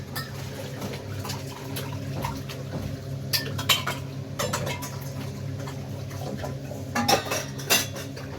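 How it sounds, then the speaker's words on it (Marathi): Metal appe pan clattering and scraping on a gas stove, with sharp irregular clinks and knocks over a steady low hiss of background noise. "हे आप्याचं भांडं आणि आता चालू करायचा गॅस"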